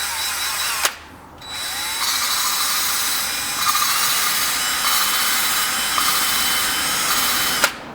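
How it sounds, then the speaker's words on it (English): A power drill spinning a valve lapping tool on a Toyota 4A-GE engine whines steadily, cutting out briefly once, then spinning again with a high mechanical buzz and faint grinding, close and loud. "I got the end of the vacuum line attached to the drill."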